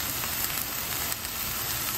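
Chicken pieces browning in a frying pan, a steady close sizzle and crackle of hot fat running continuously with no talk.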